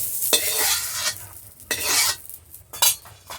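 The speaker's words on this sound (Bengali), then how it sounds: "সব সবজি হালকা হালকা করে ভাজছি, বেশি ভাজবো না আমি।" Vegetables for shukto lightly frying in a pan, a steady sizzle broken by several scraping stirs of a utensil against the pan, close and fairly loud with no one speaking.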